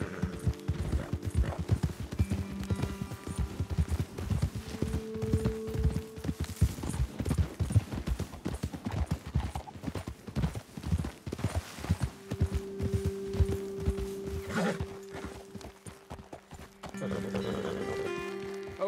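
Horses trot with steady clip-clop hoofbeats in Red Dead Redemption 2, loud and close throughout, with occasional neighs and whinnies and no talking over them.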